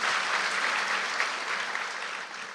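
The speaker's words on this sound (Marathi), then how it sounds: "जोरदार टाळ्या होऊन देत एकदा" Audience applause in a hall during a Marathi business and leadership talk, a steady dense wash of clapping that holds for the whole stretch at moderate loudness, with no voices over it.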